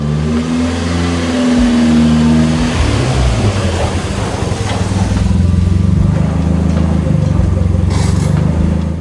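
A Mazda Miata is driven into a garage, its engine humming at low revs with a few throttle blips and rising pulls, fairly close and loud throughout.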